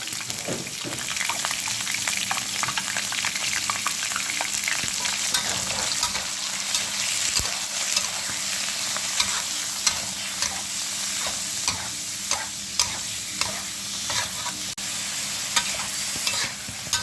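Pork offal being stir-fried with red curry paste in a hot pan, a steady crackling sizzle with repeated scraping stirs and spatula taps, close and continuous throughout.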